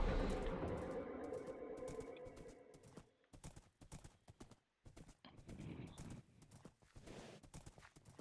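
Horse hooves clip-clop at a gallop in the Minecraft video game, with a whinny. A dense rhythmic patter runs through the first three seconds, then the clip breaks into choppier, uneven game sounds.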